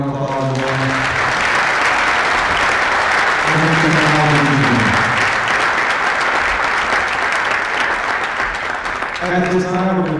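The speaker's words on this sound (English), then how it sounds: "Can you join me and give a round of applause?" An audience at an elementary school band and chorus winter concert gives a sustained round of applause, loud steady clapping from a crowd with a voice heard at the start and end.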